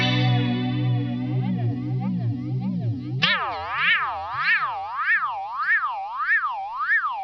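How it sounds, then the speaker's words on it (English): A PastFx Rotary Phaser pedal in flanger mode sweeps a sustained tone in steady, loud, wavering cycles that jump faster and brighter partway through, with no voice. "We go now into flanger mode."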